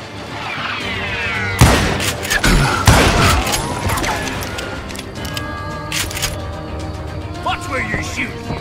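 Gunfire in the Western shooter Call of Juarez Gunslinger, a loud burst of cracking shots and booms up close, followed by scattered sharper reports, all mixed under excited shouting voices.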